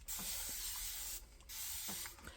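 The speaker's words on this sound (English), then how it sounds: "Spray a little bit more water." A spray bottle mists water onto a painting in two quick hissing bursts, each lasting about a second, close and fairly quiet, with a short pause between them.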